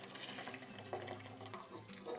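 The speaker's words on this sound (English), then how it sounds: "And then you slowly pour it through the cheesecloth." Brewed coffee pours slowly through cheesecloth in a soft, steady trickle and splash of liquid, close by and quiet, with no talking.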